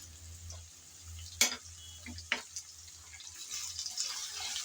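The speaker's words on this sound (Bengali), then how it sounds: "প্রথমে আমি সামান্য লবণ আর হলুদ দিয়ে কচুর লতি তেলের মধ্যে হালকা করে বেজে নেব" Taro stolons fry in oil with salt and turmeric: a soft, steady sizzle builds toward the end, broken by a few sharp utensil clinks while they are stirred, with no talking.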